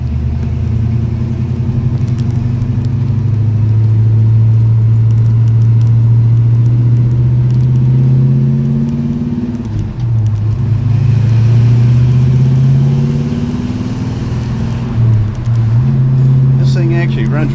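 A 1955 Chevy Bel Air with a crate small-block 350 V8 runs steadily, giving a continuous low rumble throughout with slight dips in pitch, heard from close by.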